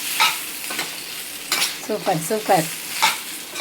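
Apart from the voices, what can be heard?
stirring fish Manchurian frying in a pan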